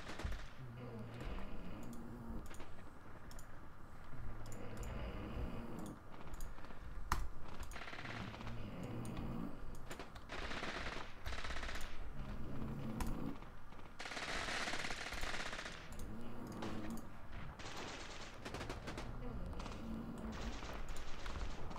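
Rapid bursts of machine gun fire from the WWII video game Graviteam Mius Front rattle on almost continuously, loud and dense, with layered distant shots and a voice occasionally talking over the battle.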